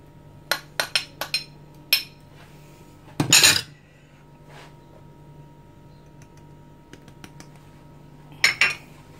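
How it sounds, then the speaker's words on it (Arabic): Utensils clink and scrape against a bowl while ingredients for savory cheese cigars are mixed, a few quick bursts of tapping near and fairly quiet, with pauses of near silence between them. "يلا البنات نخوض كل شيء هاد المقادير ونرجع لكم."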